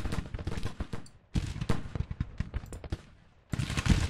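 Cannon and rifle fire crackle and thud in the Grand Tactician Civil War strategy game, a rapid uneven volley of sharp reports with short gaps, then a renewed burst of firing near the end.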